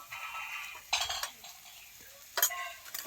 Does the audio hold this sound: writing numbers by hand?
no